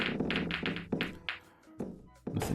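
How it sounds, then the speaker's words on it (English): A yellow ball drops into a pocket during a game of miracle pool, a few sharp knocks and thuds among other clacks of balls and table noise, fairly close and clear. "Did I just hear something drop? I did. A yellow went in."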